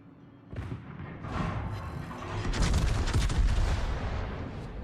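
Heavy naval guns boom in a warship battle game, a few rolling blasts building into a dense, sustained rumble of gunfire that fades slightly at the end.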